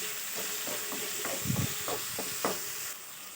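Onions, salt and spices fry in a pan for upma, with a steady close sizzle broken by several clattering spoon stirs against the pan.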